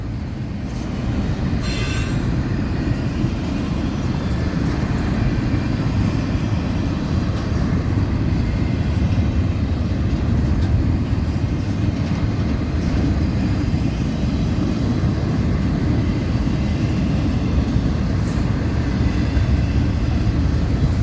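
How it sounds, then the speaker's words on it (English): A long, mostly empty northbound FECR freight train rolls steadily past at close range, a loud continuous rumble of wheels and cars with a brief high squeal near the start. "It's a long train."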